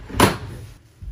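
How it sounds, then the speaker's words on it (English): A built-in wooden drawer in a school bus conversion slides open with a short, close scraping thump, followed by a softer knock. "we've built in a couple of drawers here that open forward"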